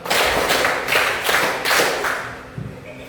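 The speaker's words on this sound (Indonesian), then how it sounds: "Tepuk 1, tepuk 2, tepuk 3, tepuk 4, tepuk 5" A class of students clapping together in a counted pattern, five loud grouped bursts of hand claps in a steady rhythm, close and alone, with a stray clap near the end.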